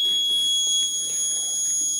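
An Arduino ESP8266 health monitor's alarm buzzer sounds as a steady, unbroken high-pitched tone for two seconds over faint background noise.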